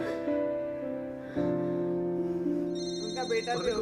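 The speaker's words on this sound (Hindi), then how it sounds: "भाई वानी का फोन आ रहा है" A mobile phone ringing with an incoming call plays a looping melodic ringtone, bright and close, continuing throughout with slight variation near the end.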